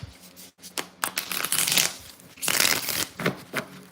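A tarot card deck riffles and shuffles in quick papery bursts, several rounds in a row, close by and fairly soft.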